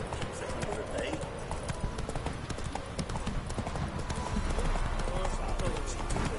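Roach, a horse in The Witcher 3, gallops with a steady, rapid clip-clop of hooves, loud and close throughout, while voices speak over the hoofbeats.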